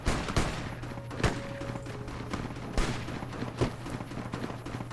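Gunfire from the video game Fallout: New Vegas: several sharp shots crack out at irregular intervals over a steady low background hum, with no voices.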